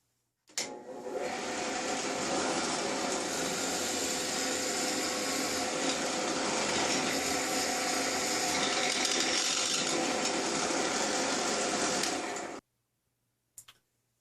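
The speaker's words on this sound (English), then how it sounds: "Got a 1/4-inch drill bit, and the drill press is set up for 2900 RPM" A 10-inch Harbor Freight drill press running at its maximum 2900 RPM with a quarter-inch bit whirs loudly and steadily for about twelve seconds, then stops abruptly, followed by a brief faint clunk.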